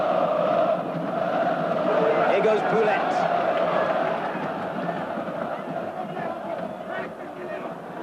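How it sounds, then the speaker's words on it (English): Football stadium crowd at a Galatasaray versus Manchester United match roars in a steady, dense wall of cheering, with a commentator talking over the noise throughout. "It's got the fans on their feet and cheering again"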